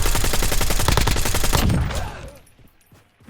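Rapid automatic gunfire from the Warzone battle royale video game, loud dense bursts rattling for about a second and a half before trailing off into a fading echo.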